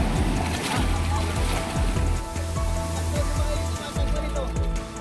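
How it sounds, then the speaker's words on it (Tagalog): Strong waves slosh and splash continuously around a bamboo raft on open water, loud and close, with rushing turbulence throughout. "Malakas ang alon."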